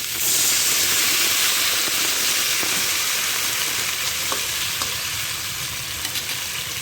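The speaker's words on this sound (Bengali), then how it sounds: "শুধু একটু লবণ দিয়ে ভেজে নেব।" Thinly sliced ridge gourd and potatoes fry with only salt in a pan, giving a loud, steady hiss and sizzle that continues without letup, close up with faint occasional stirring clicks and no talk.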